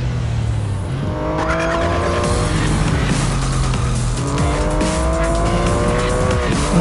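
A Porsche 959 race car in the mobile racing game Real Racing 3 revs steadily throughout, its engine pitch climbing and shifting through the gears, with brief tire squeals over a continuous loud engine drone.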